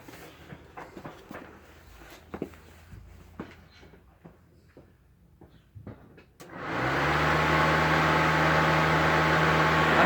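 An Opel F radiator cooling fan motor starts up with the ignition switched on: after a few scattered knocks and handling noises, a loud steady whirring drone with a constant hum sets in and continues evenly to the end.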